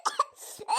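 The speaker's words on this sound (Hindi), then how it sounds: "देख बेटवा देख कितना खांसा थी" Short coughs from a woman in an Awadhi comedy cartoon, two quick harsh bursts followed by a raspy throat-clearing rumble and a final strained hack, close and fairly quiet.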